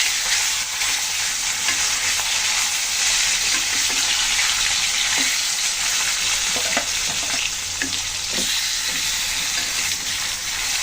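Tilapia fish pieces fry in hot oil with turmeric, a loud, constant hiss and crackle filling the clip, with small spatters and stirring bumps rising now and then.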